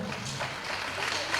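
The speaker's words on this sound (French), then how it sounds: "On applaudit pour les candidats." An audience claps for the contestants at a televised quiz show, a brief, steady burst of mid-level applause.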